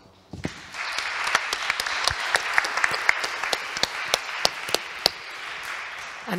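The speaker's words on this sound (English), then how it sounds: "Please, a round of applause for everyone." An audience at a digital policy conference applauds its panelists: a sudden start, then steady clapping with some sharp individual claps standing out, sustained for several seconds in a hall.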